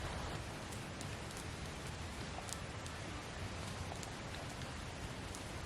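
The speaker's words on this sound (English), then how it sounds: "Been on and off rain all day" Steady rain falls across a campsite in the Scottish Highlands, a dense, even hiss of drops striking tents and ground with scattered sharper patters, continuous and fairly close with no voices.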